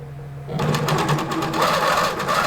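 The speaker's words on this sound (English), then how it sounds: "I'm gonna hit resume. And it's gonna do the little lock stitch." A King Quilter II quilting machine starts up after a quiet pause and runs a short lock stitch, producing a steady, close mechanical whir with rapid needle ticking that holds at an even level until the end.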